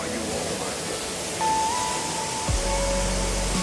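The fourth of the Amboli waterfalls in the Konkan pours with a steady, broad rushing hiss close by. A voice speaks over the roar, and a brief whistle-like tone cuts in near the middle.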